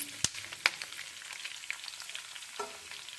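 Onions frying in a pan with a soft, steady sizzle, broken by a few sharp utensil clicks as they are stirred.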